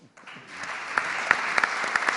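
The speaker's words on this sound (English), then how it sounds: "This is your applause, Mrs. Grandcourt." Applause at a community-based tourism forum, starting sparse and quickly filling in as clapping from a room of participants builds, with a few sharper nearby claps standing out.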